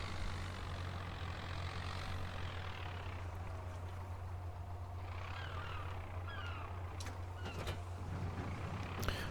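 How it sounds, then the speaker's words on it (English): A two-wheel drive tractor in the Farming Simulator video game drones with a low, steady engine rumble throughout, joined by faint whooshing and a few brief rattling clicks near the end. "this is just a two-wheel drive tractor"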